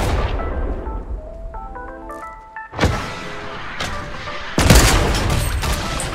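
Gunfire in the Fortnite video game, with tonal electronic beeps followed by two loud bursts of shots and blasts, close and sharp.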